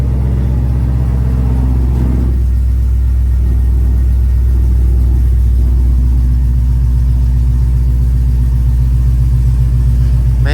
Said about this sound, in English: Man, this truck sounds good.